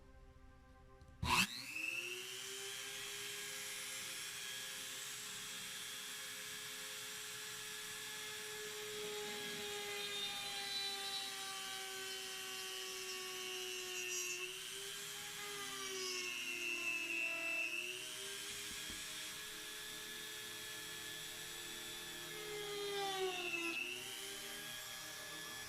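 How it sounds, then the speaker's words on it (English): A power drill bores a hole through a small resin keychain, a steady high whine held for over twenty seconds with slight pitch dips as the bit bites, close and continuous, with no talking. "So I'm going to drill a hole."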